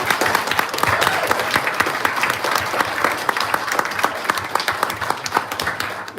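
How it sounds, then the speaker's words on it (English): Dense, steady audience applause after dinner at a talent show, many hands clapping together in a continuous loud wash for the whole stretch, close by, with no speech over it. "Let's just give them a big round of applause."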